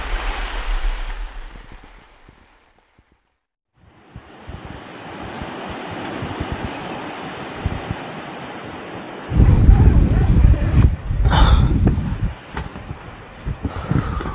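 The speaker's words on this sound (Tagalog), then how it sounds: "Grabe, lakas ng hangin," Strong wind gusting around a campsite in rain, a roaring rush that swells, drops almost to silence briefly, then returns with heavy buffeting against the microphone and a loud blustery surge near the end.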